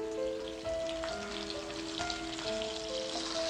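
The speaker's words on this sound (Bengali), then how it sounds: "আলুটাকে একটু ভেজে তারপর আমি তুলে নেব।" Potatoes with turmeric and salt frying in oil in a pan over lowered heat give a steady, close, continuous sizzle and crackle that stays even throughout, with no talking.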